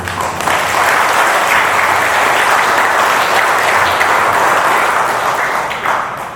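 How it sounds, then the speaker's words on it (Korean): Sustained audience applause fills a Buddhist Dharma service at a temple in Mokdong, steady and dense throughout without speech. "우리 두 분 회장님을 위해서 큰 격려의 박수를."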